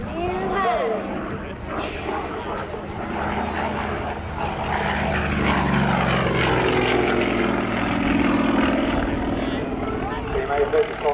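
Yakovlev Yak-52 radial engine and propeller running at an airshow as the aircraft is readied, a steady loud droning throb with rising and falling tones, heard under continuous nearby talk.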